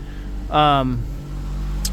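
A VW Golf MK2 GTI engine idles too high, around 2,500 rpm, as a steady low drone that runs the whole time, briefly overlapped by a short spoken phrase near the start.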